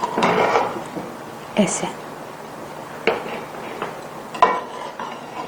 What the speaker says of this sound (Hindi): इसको थोड़ा सा ना हम मिक्स करते हैं चावलों को